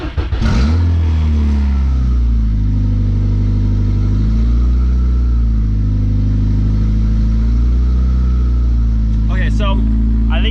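A VW Golf 3 with a swapped 1.8T engine idles loudly up close, its steady drone rising and falling in a slow, uneven surge every couple of seconds, with brief faint talk near the end.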